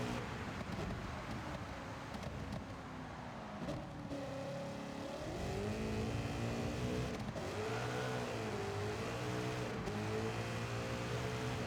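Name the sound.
race car engine accelerating in Gran Turismo 7 video game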